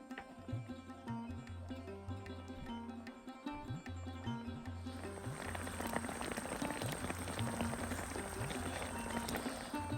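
Rasgulla simmering in a pot with salt and raisins added, a steady bubbling boil with a dense, rain-like patter that grows busier and louder partway through, continuous and close.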